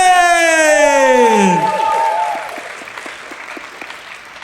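A sung note glides downward and fades as clapping and cheering from a crowd at a live talent show semi-final take over, then the applause thins out toward the end.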